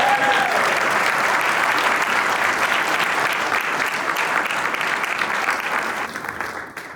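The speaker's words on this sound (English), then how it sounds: "if everyone could give my wife a round of applause" A dense round of applause from an audience at a township reorganization meeting, loud and sustained throughout, then tapering slightly at the end, with no talking over it.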